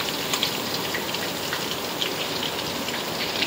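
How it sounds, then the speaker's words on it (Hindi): Heavy rain pours down in a steady, dense hiss that fills the whole stretch, with scattered louder drops spattering on a surface close by. "वर्षा भी देखिए केते जोर से वर्षा उठी आसला"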